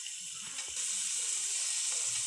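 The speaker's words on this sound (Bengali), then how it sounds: "এখন এটাকে আমি পুনরায় আরেকবার ভেজে নেব।" French fries, made from potatoes, getting a second, crisper fry in reheated oil: a steady, bright sizzle with a faint clink of stirring partway through.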